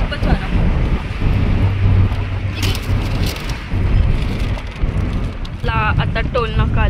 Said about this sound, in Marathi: खूप वारा आहे, खूपच वारा.